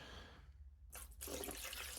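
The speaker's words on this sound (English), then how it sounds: "let's get a lot of water in there." Water splashes and pours into a bucket of rocks, a near, noisy rush that starts after a brief quiet gap and continues steadily.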